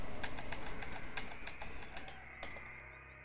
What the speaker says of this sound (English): So I was able to talk to a bird there.